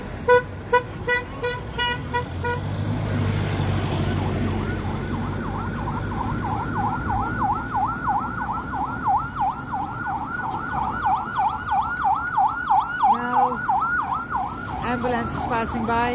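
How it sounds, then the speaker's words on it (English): A wailing ambulance siren sweeps up and down repeatedly, loud and close, over traffic rumble at Zaatara Junction, with honking bursts at the start and end. "Ambulance is passing by."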